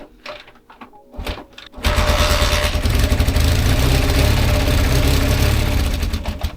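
A vintage Honda or Suzuki motorcycle engine, carburettor being adjusted, catches after a kick start and settles into a loud, steady running rumble close by, after a couple of seconds of quieter clunks and shuffling.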